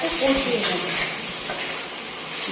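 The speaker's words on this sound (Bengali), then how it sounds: "ভালো করে মশলাটা কষিয়ে নিতে হবে" Masala spice paste frying in a pan, giving a soft, steady hiss of sizzling oil with faint stirring scrapes, close and continuous.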